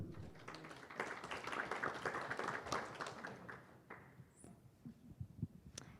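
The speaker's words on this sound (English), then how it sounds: "So applause for Bridget." Audience applause at a venture capital panel event on AI startups, a modest burst of hand clapping from a small room that starts strong and then thins out into scattered individual claps before fading.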